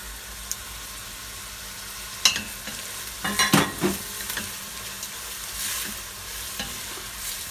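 Carrots sautéing over a high flame for borscht, a soft steady sizzle broken by clattering bursts of stirring in the pan.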